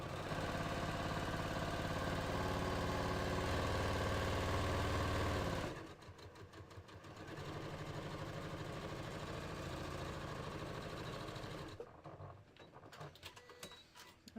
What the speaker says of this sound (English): I am just going to sew straight down my